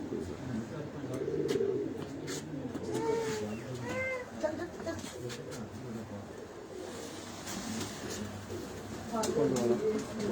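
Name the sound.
pigeon cooing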